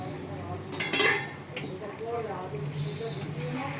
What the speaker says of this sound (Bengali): ঢাকাটা খুলে দেখবো হয়ে গেছে কিনা